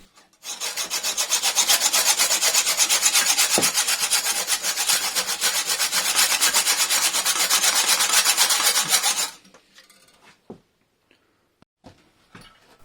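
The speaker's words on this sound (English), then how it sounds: "So it was back to the hacksaw again." Hacksaw cutting through a part of a Triumph TR7 engine during teardown, a steady loud rasping back-and-forth sawing for about nine seconds that stops abruptly, followed by a few faint knocks.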